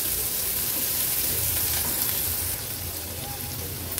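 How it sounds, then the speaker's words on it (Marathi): Medium-sized chopped onion sautéing in a pan over a low gas flame, a steady, dense sizzle that stays close and even throughout and drops slightly in level partway through, with no voices. "गॅसची फ्लेम लो करून कांदा फक्त परतून घ्यायचा आहे"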